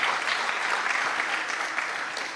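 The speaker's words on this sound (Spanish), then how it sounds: "Dale el aplauso a tu Rey." A church congregation claps together in steady, dense applause, fairly faint and continuous throughout with no voices over it.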